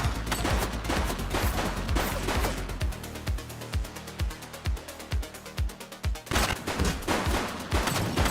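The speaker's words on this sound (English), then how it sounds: "Shots fired!" Rapid bursts of video game gunfire in a police chase, dense sustained volleys at first, then spaced sharp shots with a heavy low thump, ending in another loud fusillade.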